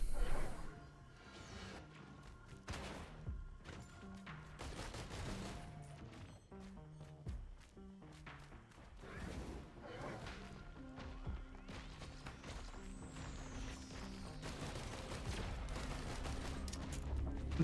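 Grenade blasts and rapid gunfire in Risk of Rain 2, dense overlapping bursts and crashes over game music, loud and continuous.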